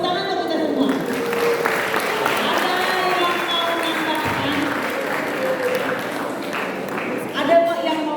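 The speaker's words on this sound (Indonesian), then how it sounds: "Tepuk tangan untuk kita semua" Students at a school retreat applaud for several seconds, a steady wash of clapping with voices mixed in throughout.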